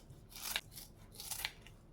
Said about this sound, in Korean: 먹기 좋게 가위로 쓱싹싹 잘라주고요